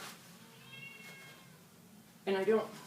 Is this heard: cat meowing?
yes